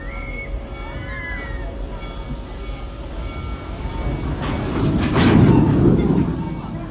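The Serengeti Express train at Busch Gardens Tampa pulls away from the station, a low rumbling roll that grows louder over several seconds, with a faint high tone early on and a burst of rattling noise near the end.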